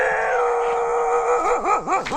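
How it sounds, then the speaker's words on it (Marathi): Dogs near a house in dense forest give a sustained close howl that breaks into wavering, rising and falling yowls and barks, loud and with no talking. "तेव्हा का कुत्र्यांचा आवाज आला"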